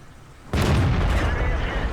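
A tank gun fires in the World of Tanks video game with a sudden loud blast and explosion, its heavy rumble sustained and ringing on after the hit, with no talk over it.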